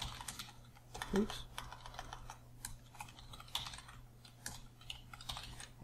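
A password is typed on a computer keyboard while setting up a user account on a Windows Server 2012 domain, a light run of quick, irregular key clicks. A soft voice briefly speaks over the tapping.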